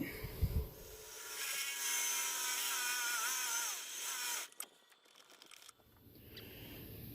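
A high-pitched power drill with a large metal-cutting bit whines and bites into wood while carving a kuksa cup, its pitch wavering under load, then cuts off before a brief restart near the end.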